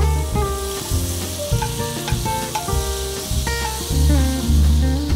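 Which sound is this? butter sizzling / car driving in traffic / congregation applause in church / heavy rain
butter sizzling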